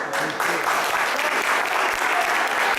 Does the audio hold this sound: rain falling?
no